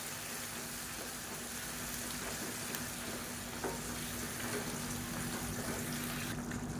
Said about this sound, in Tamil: இப்போ நல்லா கொதிக்குது.